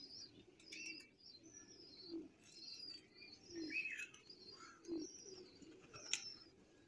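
Soft chirps and light wing flutters from a female Madrasi high-flying pigeon, close by, with a few brief coos among faint outdoor background noise.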